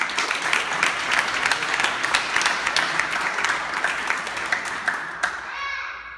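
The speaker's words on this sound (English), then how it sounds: "So round of applause for that." At a CrossFit gym awards show, a room of people claps in a crisp, lively round of applause with a few voices mixed in, tapering off and stopping just before the end.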